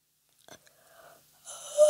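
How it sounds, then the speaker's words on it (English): A faint, breathy yawn, soft and brief, that ends in a rougher, airy exhale swelling louder near the close. "That was like a very faint yawn"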